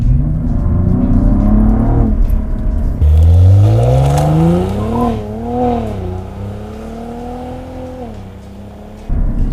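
A Cadillac ATS-V driven hard with traction control partly off: the engine roars and climbs through the revs, dips and surges again, loud and close, the rear tyres losing grip on a twisty road.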